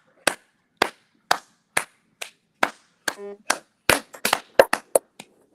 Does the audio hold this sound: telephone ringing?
no